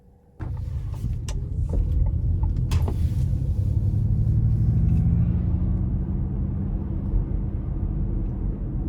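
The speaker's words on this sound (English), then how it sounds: "take this Mustang Mach E California Route 1 out on the road for a quick test drive" A 2021 Ford Mustang Mach E electric car drives on California Route 1, a steady low road rumble and tire hum from inside the cabin after a few faint clicks, continuous and without speech.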